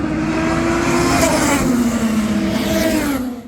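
Race car engines roar loudly and continuously, their pitch rising and falling as the cars scream past nearby during qualifying at the 2024 Long Beach Grand Prix.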